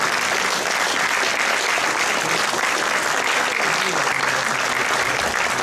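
Loud, sustained audience applause for jazz singer Adèle Belmont at a talent show finale, with many hands clapping in a dense, even roar and a faint crowd murmur beneath.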